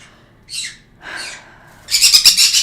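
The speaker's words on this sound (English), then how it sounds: "the birds screaming" Pet birds scream nearby: two shrill separate calls, then a longer burst of rapid, piercing screeches that ends the clip loudly.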